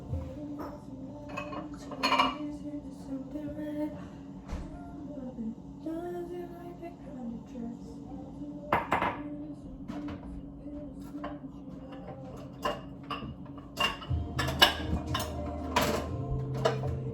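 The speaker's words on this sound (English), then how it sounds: "Trying to put these dishes away, but I gotta do these dishes tomorrow." Dishes being put away by hand, with scattered clinks and clatters of plates, pots and cutlery, a cluster of sharper knocks near the end, over a steady background hum and faint household sounds.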